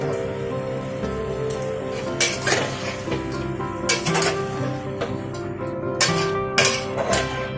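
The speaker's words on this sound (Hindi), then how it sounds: "अभी डालिया, सबको अच्छी तरह से मिक्स करना है, करके अच्छी तरह भूनना भी है" Broken wheat dalia is stirred and roasted in a pan, a close, busy mix of metal spoon scrapes and clanks against the pan over a grainy rattling sizzle, with louder scraping bursts every second or two.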